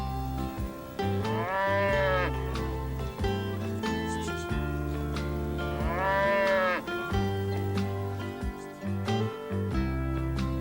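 Cattle in Arizona moo loudly and repeatedly, long drawn-out lowing calls from several animals overlapping nearby.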